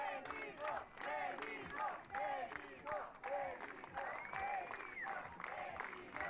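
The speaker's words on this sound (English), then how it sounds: "people will clap together to make attention until the parent hears them and arrives" A crowd of people clapping in unison to draw a lost child's parent, a dense, steady run of overlapping claps with raised voices mixed in, heard at moderate distance throughout.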